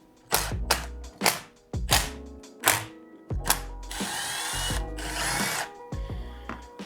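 Power tool bursts loosening engine case and clutch cover bolts on a 2005 Yamaha YZ125 two-stroke during a teardown: a series of short, loud whirring impact-driver rattles, several quick hits then two longer sustained runs, close up with no talk.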